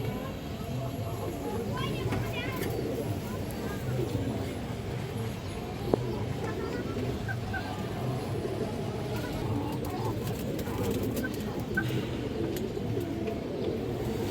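Bangladeshi black-beaked Kaldam pigeons coo amid a busy, noisy pigeon market, with steady crowd murmur and traffic-like rumble throughout and a sharp knock near the middle.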